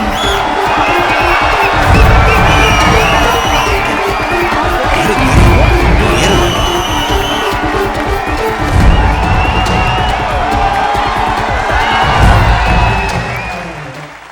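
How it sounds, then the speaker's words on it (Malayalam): Dense, loud crowd cheering, whooping and clapping for a film actor as he greets fans in front of the media. The roar runs steadily throughout and swells in several waves. "കണ്ടില്ലേ അച്ഛന് ജനങ്ങൾ കൊടുക്കുന്ന കയ്യടി"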